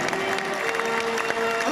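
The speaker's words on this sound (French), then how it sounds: "je vous demande un tonnerre d'applaudissements" An audience at a live nativity scene in Provins claps steadily, a dense wash of applause with a faint crowd murmur underneath.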